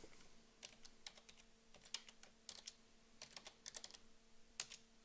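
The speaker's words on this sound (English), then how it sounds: "and now typing in my new name." Typing on a computer keyboard while renaming an object in 3D software, a run of quiet, close keystrokes in irregular clusters with short pauses.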